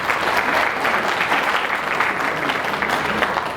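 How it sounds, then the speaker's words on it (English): Conference attendees give the presenters a hearty round of applause, a full, even wash of clapping from a large room that holds steady from start to finish. "another hearty clap."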